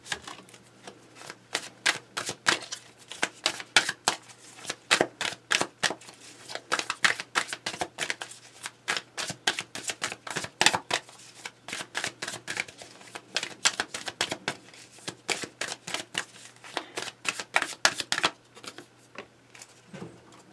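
Tarot cards are shuffled over and over in quick riffling bursts, a steady papery rhythm with no talking.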